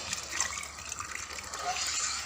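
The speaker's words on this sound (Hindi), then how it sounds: "अब हम इसमें दूध ऐड करेंगे, लेकिन मैंने दूध में हल्का सा फूड कलर ऐड किया है" Milk tinted with food colouring pours steadily into semolina halwa, giving a continuous close hissing, gushing liquid sound with no talk.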